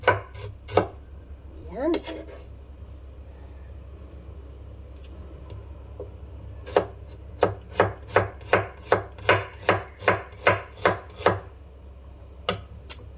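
Knife chopping eggplant into thin slices on a board, a few scattered cuts at first, then a run of regular, crisp close-up strikes at an even rhythm, with a brief spoken word.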